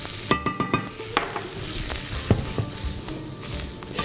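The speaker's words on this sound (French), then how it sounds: "Au niveau du bruit, il y a les petits crépitements qui sont en train de devenir de plus en plus graves et non moins aigus." Shallots with added paprika sizzle and crackle in a hot pan, a dense frying hiss with sharp pops and a few clinks of a utensil against the pan.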